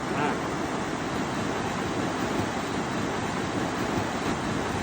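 River water rushes over Cahill's Crossing, a tidal causeway in crocodile country, as a loud, steady, unbroken roar of fast-flowing water with no pauses.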